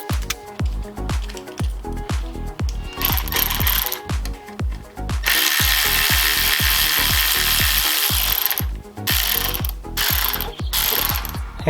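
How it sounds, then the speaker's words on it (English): A bolt-style puller is ratcheted off a vibration damper on a Jeep stroker engine teardown, giving a close, loud, steady series of rapid ratchet clicks with a grinding, whirring stretch in the middle. "You got to use this bolt style puller here."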